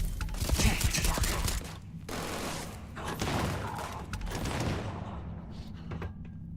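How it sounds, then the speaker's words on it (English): Gunfire in Starfield, a loud stretch of rapid shots and clattering impacts that thins into a lingering rumble of distant fire, with faint talk beneath. "Who was shooting at me?"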